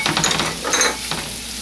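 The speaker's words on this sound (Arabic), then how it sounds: "هاخد حتة زبدة مثلا صغيرة واحط عليها شوية زيت، وبعد كده احمر البصل" Onions fry in butter and oil with a steady, close sizzle, while a utensil stirs and scrapes through them in the pan.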